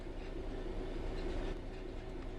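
A train rolls steadily in Train Sim World 3, a continuous rumbling drone with a low hum and faint rail clatter, loud and alone with no voices.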